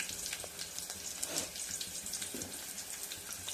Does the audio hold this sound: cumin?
yes